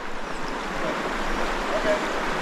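A river flows around someone wading in it, with a steady broadband rush of moving water held at an even level and no pauses.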